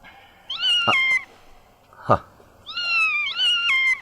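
High-pitched kitten meows repeat nearby, several thin cries in a row from beneath a table, with a couple of soft knocks between them.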